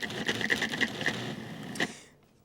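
A food processor pulses cookie dough ingredients for ring-shaped Venetian cookies, a rapid series of short chopping bursts over about two seconds, fairly close, then stopping abruptly into quiet.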